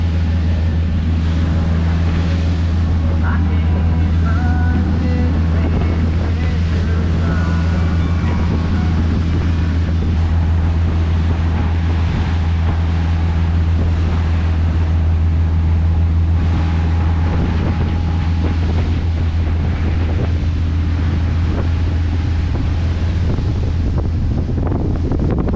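A boat under way at sea near Bury Head, with a steady low engine drone, strong wind buffeting the microphone and wash of waves running continuously throughout.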